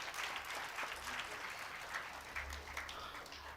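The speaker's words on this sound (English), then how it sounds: "Please clap once again for all of these" An audience applauds at a college award ceremony honouring students, steady mid-distance clapping from a sizeable crowd, even and sustained throughout without a clear start or finish.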